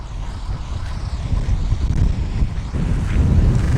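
Gusty wind buffets the microphone in a hilltop hay field where raked windrows lie scattered, giving a constant low, rumbling roar that swells and eases without pause.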